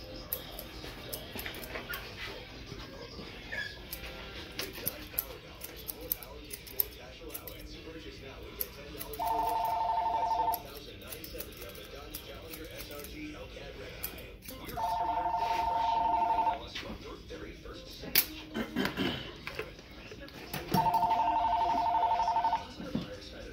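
A telephone in a barbershop rings in three evenly spaced electronic bursts, each lasting about a second and a half, over busy background chatter, a barking dog and shop noise.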